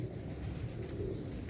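Pigeon cooing softly in the background, a faint low murmuring coo over steady room noise, heard alone without talk, from a purebred pigeon being examined by a fancier.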